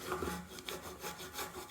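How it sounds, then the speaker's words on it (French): A steel hammer rubbed firmly across paper to cut it, producing a steady scraping, sawing-like friction in repeated close strokes, moderately quiet with no speech. "On va couper le papier en frottant comme ça."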